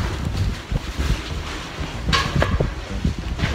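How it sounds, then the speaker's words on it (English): Gusty wind rumbling against the microphone in uneven surges, fairly loud and close, with a brief brighter rush partway through and no talking. "It's very windy here"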